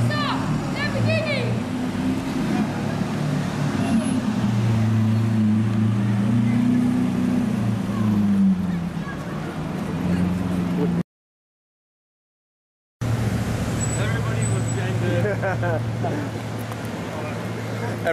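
A blue chrome Lamborghini Aventador supercar drives along a London street, its loud, low engine rumble rising and falling close by beneath excited crowd voices, with a brief cut partway through.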